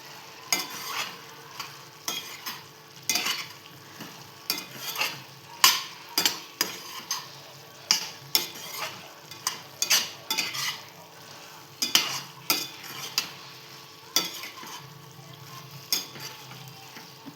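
Paneer for chilli paneer being stirred and fried in a pan, with a steady sizzle under repeated scraping strokes of a spoon at an irregular, brisk rhythm, close and fairly loud.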